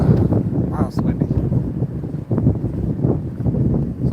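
Strong wind buffets the microphone outdoors in a steady low roar with gusts, and a voice seems faintly present beneath the rumble.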